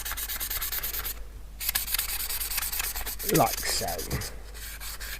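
Abrasive rubbing on a model locomotive surface, keying it up before gluing, heard as steady scratchy back-and-forth strokes close by, with brief pauses and a short spoken remark partway through.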